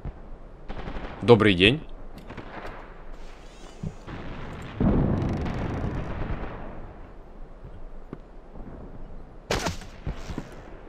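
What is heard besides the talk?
gunfire in video game Iron Storm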